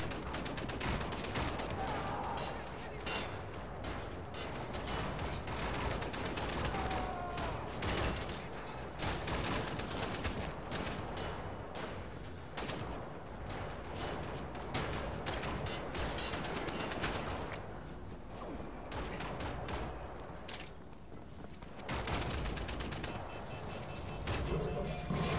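Sustained gunfire in Wolfenstein: The New Order, dense rapid shots continuing almost without pause over a loud, busy game soundscape.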